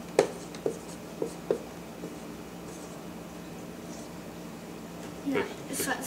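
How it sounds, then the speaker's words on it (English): Pen scratches across paper in a few brief strokes at the start, then faint rustling, while a person talks in the background during a math exercise. "Okay, write that down."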